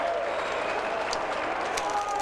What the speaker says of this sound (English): the Central District fans applauding the effort